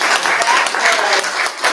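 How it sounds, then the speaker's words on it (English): A short burst of applause at a town council regular meeting, honoring the Public Works department: steady dense clapping from a room of people, fairly close, with no pause through the brief stretch. "So I would just like to give them a clap, a hand clap."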